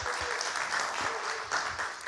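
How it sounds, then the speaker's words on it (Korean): A church youth winter retreat group claps for their department head, a steady wash of hand claps from a small gathering, moderately loud and continuous. "자, 부장님 박수."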